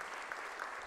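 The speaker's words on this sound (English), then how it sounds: "Can we give him another round of applause, a big one," Dense, steady applause from an audience at an IEC KwaZulu-Natal thought-leadership panel on digital democracy, loud and close, in a brief burst with no voices above it.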